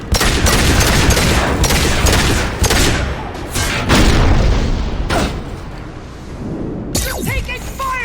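Heavy gunfire and explosions crash in dense, loud bursts and booms, with brief pauses between volleys and a voice mixed in near the end.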